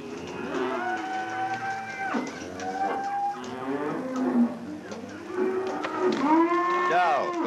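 Several cows moo over and over, their long, wavering calls overlapping and rising and falling continuously, fairly close by.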